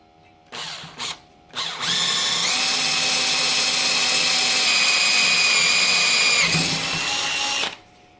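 A power drill boring through wood clamped in a vise for a floor-mounted bike rack: a couple of short revs, then one long steady high whine for about six seconds that drops as it breaks through, close and loud.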